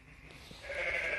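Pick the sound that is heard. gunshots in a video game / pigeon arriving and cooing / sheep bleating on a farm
sheep bleating on a farm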